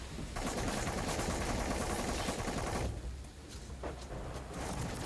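SMG gunfire in The Cycle, a dense rapid burst of shots for about three seconds, then a short pause and another burst, loud and close with no talking.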